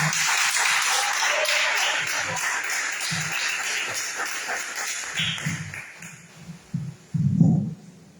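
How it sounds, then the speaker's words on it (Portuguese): A church congregation claps to welcome the pastor, a loud, close wash of hands that thins out into scattered claps, with low thumps and shuffling toward the end. "Vamos receber o pastor Neto, com palmas agradecendo ao Senhor."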